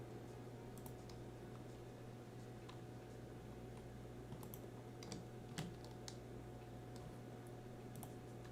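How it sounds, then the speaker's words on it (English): Computer keyboard typing, faint and steady under a constant electrical hum, with a few sharper key clicks scattered through while a game is being played. "Typing."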